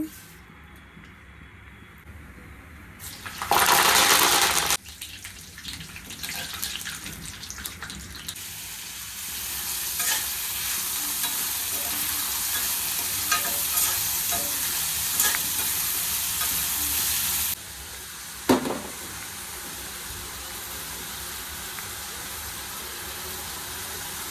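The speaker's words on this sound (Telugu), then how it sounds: "నేను కర్రీ ప్రిపేర్ చేసుకుంటున్నాను" Egg curry (egg pulusu) with boiled eggs and soaked tamarind is stirred and fried in a home kitchen pan, giving a steady close sizzle with spoon scrapes and a brief loud rush of tap water early on.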